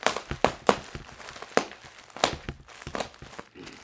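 Crinkling and tearing of a package holding graded comics, a run of sharp, close rips and taps in irregular bursts with no talking.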